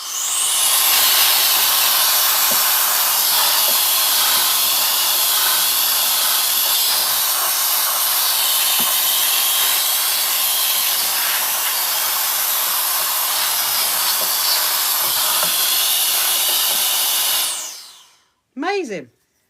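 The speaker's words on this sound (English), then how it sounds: "I'm going to get my little hoover out." A small handheld hoover vacuum cleaner sucks up debris from a sewing machine, a loud, steady high-pitched whine with a rushing airflow that runs evenly for a long stretch, then cuts off and winds down with a brief burst at the end.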